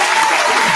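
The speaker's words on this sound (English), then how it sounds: "Round of applause for that." Short burst of studio applause on a mixshow, a dense steady clatter of hands at full volume with no talk over it.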